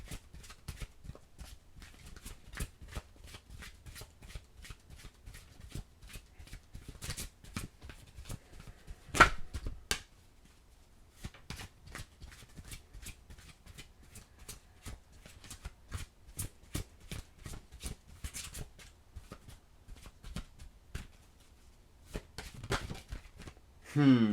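Oracle cards being shuffled by hand, a long run of quick papery riffles and taps at close range, briefly pausing partway through with a voice faintly present.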